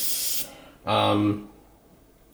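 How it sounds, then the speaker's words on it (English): An Iwata Eclipse HP-CS airbrush sprays paint in short practice passes, two bursts of close, airy hiss, the second with a low tonal buzz beneath it, separated by a quiet gap. "just practice, see how the spray pattern works"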